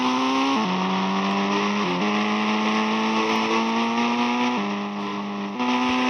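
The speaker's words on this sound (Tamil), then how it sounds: "பார்த்துக்கோங்க, மிலிட்டரி வண்டி தான்." Steady droning engine of a military vehicle being driven in Indian Bike Simulator, a loud continuous motor tone that steps up and down in pitch with gear changes, with no speech over it.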